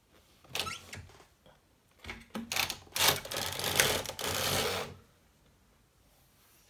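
A sock knitting machine knits yarn laid over its needles: a few mechanical clacks build into a dense, close rasping run of carriage and needle noise for about two seconds, then stops abruptly, with no talk.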